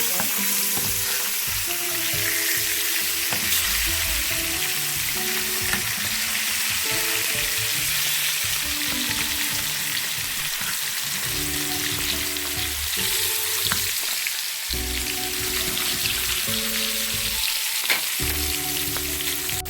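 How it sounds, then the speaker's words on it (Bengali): Hilsa fish pieces fry in hot oil in a pan, giving a continuous close sizzle and crackle for nearly twenty seconds while light music plays underneath. "মাছগুলোকে একটু উল্টে নিচ্ছি যাতে পাশে একটু সমানভাবে আমি ভেজে নেব।"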